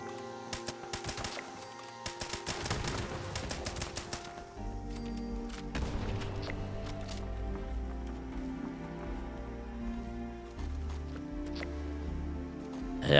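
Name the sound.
automatic rifle gunfire in the video game Fallout 76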